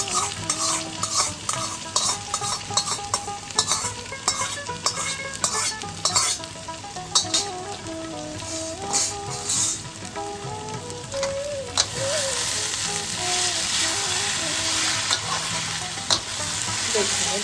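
Spices for a tempering fry in a pan for kochu shak ghonto made with taro leaves, coconut and chickpeas, giving a steady close sizzle with stirring scrapes that grows louder and denser near the end.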